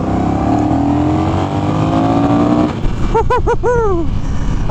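A 2021 Honda Rebel 1100 DCT motorcycle ridden at slow speed on Southern California roads, its engine a steady close drone under wind rush, with a few rising rev pulses near the end.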